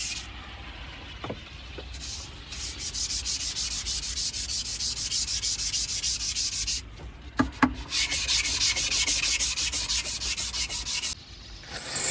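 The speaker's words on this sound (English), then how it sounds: "You just use water when you're sanding a metal." Steady back-and-forth rasping of wet sandpaper on stainless steel, continuous and close, with a couple of brief knocks and short pauses.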